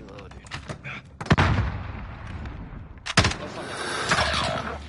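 Gunfire in the Modern Warfare video game comes as two loud, sharp bursts of shots a couple of seconds apart, with rumbling echoes and game noise between them and a player talking over it.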